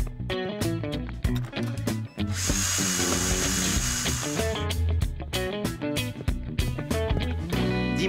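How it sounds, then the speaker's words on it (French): A cartoon power drill bores a hole in a wall in a Bob the Builder episode, a steady whirring burst of a few seconds set against busy, continuous background music. "je crois que je sais comment bien percer un trou dans un mur maintenant, Bob."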